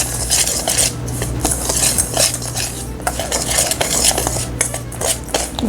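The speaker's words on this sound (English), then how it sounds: "Stir about 1 tablespoon of the prepared cinnamon filling." Cinnamon filling stirred into Cinnabon muffin batter, close and loud, with repeated scraping and clinking of a utensil against a bowl in a brisk, irregular rhythm.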